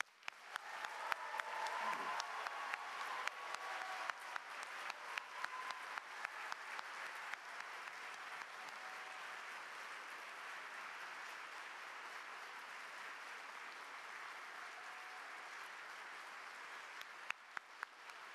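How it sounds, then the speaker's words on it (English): At a graduate commencement ceremony, the audience applauds doctoral degree recipients with sustained, fairly distant clapping that fills the hall, the crowd staying steady for nearly the whole stretch and tapering at the end. "Please join the Dean in a round of applause for all of our doctoral degree recipients."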